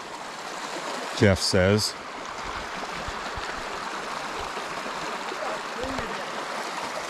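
Steady rushing of a running stream in Molino Basin, constant and fairly close throughout, with a voice speaking briefly over it near the start.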